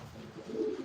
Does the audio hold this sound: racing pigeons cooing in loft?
yes